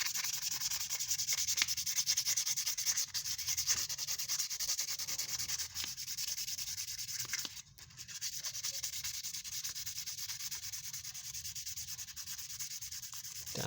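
Sandpaper rubs on a disc brake piston housing in a continuous dry, hissing scrub with slight rhythmic variation, close and fairly quiet, and no voices.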